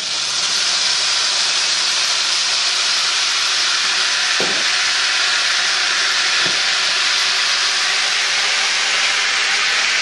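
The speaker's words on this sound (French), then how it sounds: "Donc, nous allons les déglacer." Steaks deglazed with beer in a hot pan, a loud, steady broadband hiss of steam and sizzling that fills the whole stretch, with a couple of faint knocks midway and no talking.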